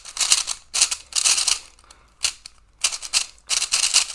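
A speed cube from the Tornado v4 and Aosu v7 puzzle cubes is turned in quick bursts of close, clacky plastic clicking, separated by short pauses.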